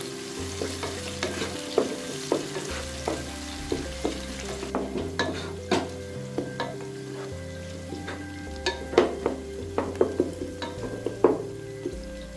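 Chopped onions frying in a pan, stirred with a utensil: steady sizzle under repeated scraping and clinking strokes, close and clear, no talking.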